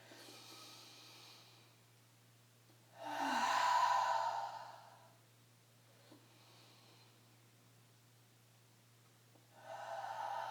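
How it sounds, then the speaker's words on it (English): Slow breathing, in through the nose and out through the mouth, during a calm meditation: soft airy exhales rising and fading at an easy pace, close and quiet, with low hum underneath. "inhaling through the nose and exhaling out the mouth"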